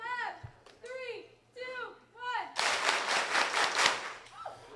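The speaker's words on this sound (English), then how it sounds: "we're going to celebrate our 6th year leaders with 6 claps" A morning gathering celebrates sixth-year leaders with a burst of group clapping in unison, several synchronized claps after a voice speaks over a hum; the claps are close and dense.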